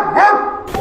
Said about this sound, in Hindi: कुत्ते की आवाज सुनो कुत्ते की।